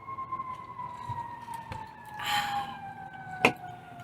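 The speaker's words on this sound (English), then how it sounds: "Is that a siren?" A siren tone holds steady in the distance, faint and continuous, with a brief burst of noise partway through.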